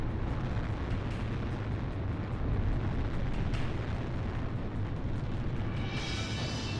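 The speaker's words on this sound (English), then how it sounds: "Fire a missile into the hole. Missile launched." A missile launch and explosion in the video game Ace Combat Zero is heard as a loud, continuous broadband roar and rumble, jet-like and sustained throughout, with no speech.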